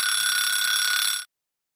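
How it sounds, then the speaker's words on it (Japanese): An anime alarm clock sounds a steady, loud electronic tone at morning wake-up, holding evenly for just over a second before cutting off sharply into silence. "目覚まし止めて。"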